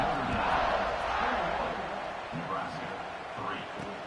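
Stadium crowd in a college football video game roars steadily in a broad, continuous wash of cheering, loud and sustained throughout with no distinct voices standing out.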